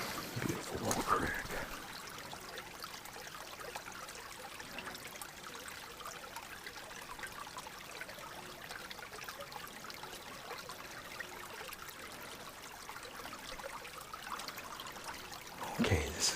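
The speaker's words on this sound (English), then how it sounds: "Beautiful little creek." A small creek trickles steadily over clay rock at the bottom of a canyon, a soft, continuous gurgle heard close by with no talking and a brief rustle at the start and end.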